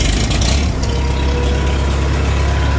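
Farmall tractor engine idling, a loud, steady low rumble with deep throbbing chugs running throughout and no voices.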